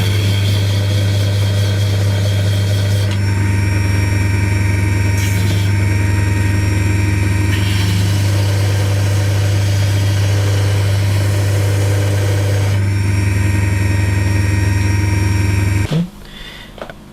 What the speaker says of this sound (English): He sanded that on the disc sander and you can see it's given a perfectly smooth finish